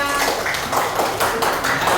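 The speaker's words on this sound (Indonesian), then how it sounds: "Tepuk tangan buat Mbak Kayla." Students applaud in a classroom during a peer-teaching lesson. A short run of rhythmic hand claps is heard close by.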